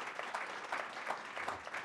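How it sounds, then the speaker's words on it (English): Applause from an audience at a fireside chat event, a faint, distant steady patter of clapping with no voices over it. "please enjoy and give a big round of applause to Yancey Spruill"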